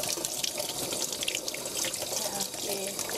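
Tap water runs steadily into a sink while a block of tofu is rinsed under the stream, a continuous close splashing hiss with small dribbling variations throughout.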